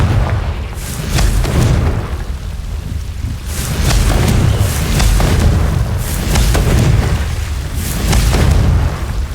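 Repeated booming fire-spell blasts from the Hogwarts Legacy game, loud, rumbling explosions recurring every couple of seconds with a crackling, thunder-like tail between them, no voices.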